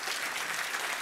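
A conference audience claps for the event organizers during a meal, dense steady applause filling the room throughout the brief moment.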